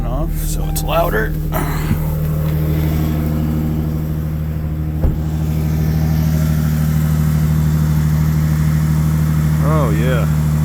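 A 2018 Jaguar F-Type 400 idles loudly on a cold morning with its exhaust button switched off, a steady deep drone close by, with a brief voice at the start and a short one near the end.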